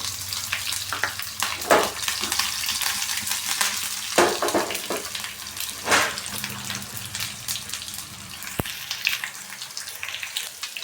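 Curry leaves, cumin and pepper tempering in hot oil for tomato khara pongal, a steady crackling sizzle with sharp pops and spits bursting through, close and fairly loud, with no talking.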